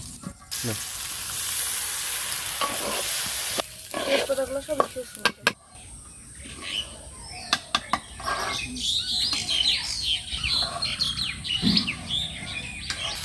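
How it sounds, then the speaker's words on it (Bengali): Polao rice frying in hot oil while being stirred, a steady loud sizzle at first that turns into scraping and clattering of a spoon in the pan, with birds chirping outdoors in a village setting. "পোলাও চালগুলো ভাজার জন্য এবার তেলটা দিয়ে দেবো"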